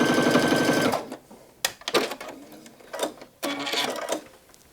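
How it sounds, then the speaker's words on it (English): A sewing machine runs a long basting stitch on muslin in short close bursts: one sustained run, then several quick stop-start spurts separated by pauses, with no talk. "I'm going to put on a basting stitch so I'm not here all day"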